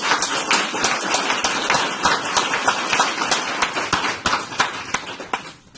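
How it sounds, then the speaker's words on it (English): An audience gives a round of applause for a speaker at the close of a talk, many hands clapping steadily at moderate volume before the clapping thins out and fades in the final second. "let's give Bill a big round of applause"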